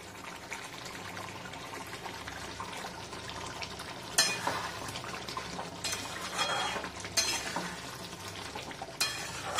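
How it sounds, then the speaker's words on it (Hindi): Food frying in a pan with a continuous sizzle and frequent stirring scrapes, a few louder bursts of hiss partway through, close by and without any voices. "इसको अच्छे से अभी फ्राई करूंगी।"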